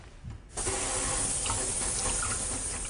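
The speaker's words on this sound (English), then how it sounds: "I'm going to first wash my hands" Water from a tap begins gushing into a sink after a short quiet start as hands are washed before a physical examination, a steady close hiss that continues to the end.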